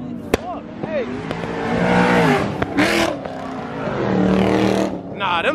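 Loud exotic sports car engines rev and roar up close at a Cars and Coffee meet in Atlanta, rising and falling in waves, with people talking and shouting over the noise.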